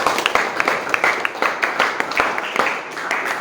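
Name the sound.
applause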